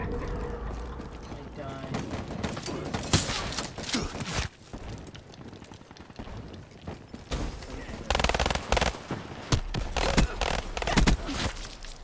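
Rapid bursts of automatic gunfire in Call of Duty: Black Ops III, with dense clusters of loud, close shots separated by brief lulls and heavier volleys toward the end, amid other game noise, while players talk now and then.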